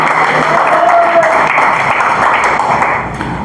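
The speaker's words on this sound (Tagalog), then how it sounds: "Malakas nga po na palakpak para sa Panginoon." Loud, dense applause from a church congregation during a sermon on the Holy Spirit, a steady wash of clapping lasting the whole moment, close and full, easing slightly at the end.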